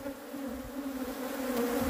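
A swarm of honeybees captured in a city buzzes at an apiary, a steady close drone with a clear pitched hum that swells slightly louder toward the end, with no voices.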